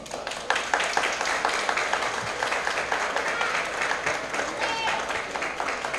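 An audience at a Haitian opposition political gathering applauds with dense, continuous clapping for about six seconds, close and fairly loud, while voices carry on over it.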